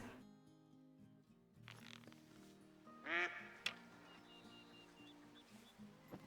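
A duck quacks during hunting in the video game Call of the Wild, a short loud burst of quacks in the middle, with a quiet game soundscape and faint sounds around it.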